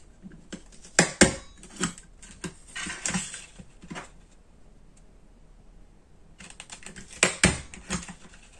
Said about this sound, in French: je vais faire une petite fantaisie avec ma perforatrice bordure.